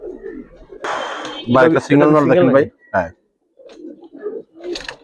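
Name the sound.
Giribaz pigeons cooing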